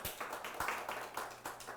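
A church congregation claps in a quick, even rhythm during a Spanish-language worship service, the claps faint and distant.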